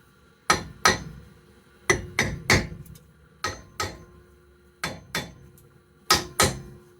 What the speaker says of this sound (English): Maybe tapping it with a hammer.